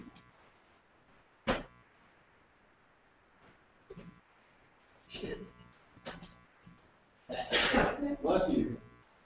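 A single sharp sneeze bursts out nearby in a quiet room, followed by scattered rustling and muffled speech from people present.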